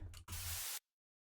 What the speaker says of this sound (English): The cashmere white noise, we use this on our drops just to get that initial impact